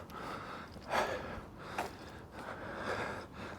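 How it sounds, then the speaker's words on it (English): Heavy, effortful breathing from someone trudging up a steep, tiring hill, with a few louder gasping breaths standing out from a steady outdoor noise bed. "Excuse the heavy breathing."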